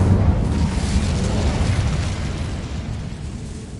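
Incendio fire spell cast in a video game, a loud sustained roaring burst of flame that fills the whole span and slowly tapers off, heard alone.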